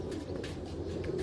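Heera Laal breed pigeon cooing, a short low burbling coo close by, steady and fairly faint, alone without talk.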